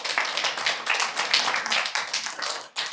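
Audience at a city council committee meeting applauding, a steady burst of clapping from many hands that stays close and fairly loud, then dips briefly near the end.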